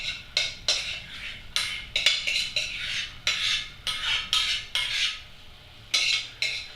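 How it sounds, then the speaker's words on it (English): A metal spoon scrapes mashed potatoes out of a cooking pot into a bowl: a steady run of short, close scraping strokes and clinks at an uneven rhythm, with no talking. "Using our spoon, get it all out of the pot, into a bowl"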